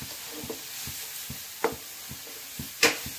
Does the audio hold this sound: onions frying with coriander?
yes